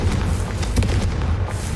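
A Confringo explosion spell in the video game Hogwarts Legacy, a short, loud, booming blast that fills the whole moment with dense rumbling noise and no speech over it.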